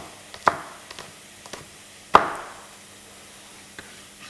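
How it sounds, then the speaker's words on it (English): A knife strikes a cutting board while chilies are chopped for a soup with garlic and onion, two clear thuds among a few lighter taps, sparse and irregular in a quiet kitchen. "I'm chopping the chilies."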